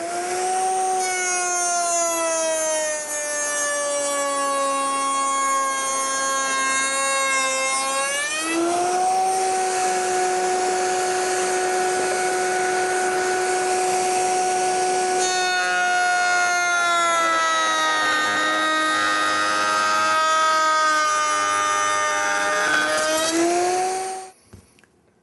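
A router table cutting a wood joint, the motor holding a loud steady high whine that dips in pitch as the bit bites into the wood, then winds down abruptly at the end.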